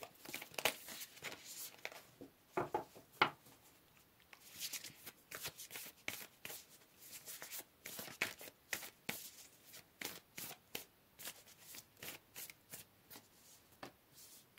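Tarot cards being shuffled and drawn from a deck, a long run of quick, close riffling bursts and soft card slaps in an irregular rhythm, fairly quiet and with no talking.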